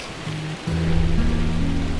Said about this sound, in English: It's raining in any case.